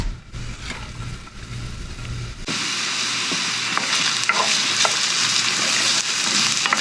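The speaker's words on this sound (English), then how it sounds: "we just want to saute these onions until soft" Onions hit hot grapeseed oil in a cast iron pan and sauté with a steady, close sizzle that jumps in level after a quieter start, with occasional stirring clicks.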